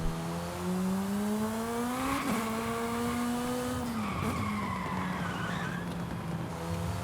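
In Forza Horizon 5, a tiny car's tires squeal and skid as the brakes lock up, a sustained screech riding over a droning, shifting engine note, close and loud.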